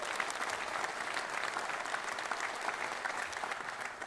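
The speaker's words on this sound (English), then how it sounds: "How about a round of applause for Colleen?" A crowd at a Maryland coach-introduction event applauds steadily for the interim athletic director, a dense, even wash of many hands held at a constant level throughout.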